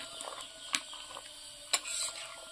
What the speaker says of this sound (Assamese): এনেদৰে আৰু অলপ সময় লৰাই থাকিব লাগিব যাতে চেনি পানীখিনি তলত বহি নাযায়